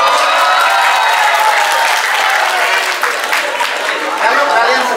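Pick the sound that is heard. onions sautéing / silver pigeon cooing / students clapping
students clapping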